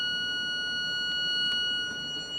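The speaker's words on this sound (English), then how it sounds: "Get my buzzer back on," The points-timing tester buzzer on a 1973 Suzuki TC125 sounds as a steady, close electronic tone that holds unbroken with a faint hum beneath it.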